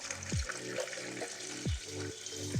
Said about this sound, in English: Let's flush it out with distilled water.